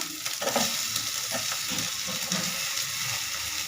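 Chicken sizzles and fries in a pan while a utensil stirs and scrapes through it, a steady close crackle with repeated stirring strokes and no talking.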